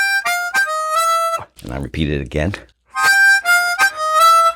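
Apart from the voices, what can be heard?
chromatic harmonica playing blues lick, 6 and 10 draw octaves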